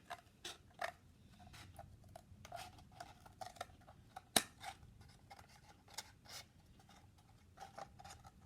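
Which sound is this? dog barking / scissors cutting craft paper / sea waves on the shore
scissors cutting craft paper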